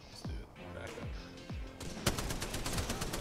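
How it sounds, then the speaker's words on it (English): Rapid gunfire in the battle royale shooter Apex Legends, a run of quick, loud shots with deep booming hits early on, then a dense burst of automatic fire; a voice talks over it. "I'm trying to back up, but they're shooting me"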